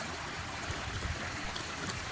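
Irrigation canal water flows across farmland beside a main road, making a continuous soft rushing and gurgling murmur with no voices.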